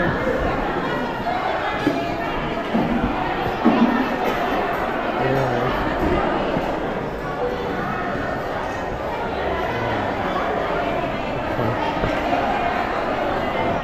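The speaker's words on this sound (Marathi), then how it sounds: "गर्दी आहे" Busy crowd at a fish market in Vengurla, a continuous din of many overlapping voices with occasional thumps and clatter.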